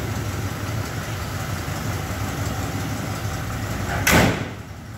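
A 1970 Ford F100 Sport Custom pickup idles with a steady, even engine rumble, then a brief loud clunk like a door closing near the end.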